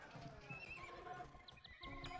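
Horses in the Age of Empires 2 HD strategy game give bright neighs and whinnies over clip-clopping hooves and busy battle sound effects, layered and fairly quiet throughout.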